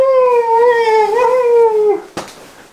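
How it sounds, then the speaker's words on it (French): A loud, drawn-out wail with a steady tone and rich harmonics, a very large cat's yowling meow, ending abruptly with a short thump. "Il est en train de miauler, il est là."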